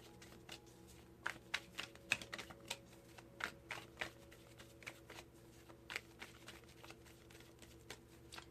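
Tarot cards being shuffled by hand, a faint run of soft crisp taps and riffling clicks in an uneven rhythm, close by and quiet with no talking.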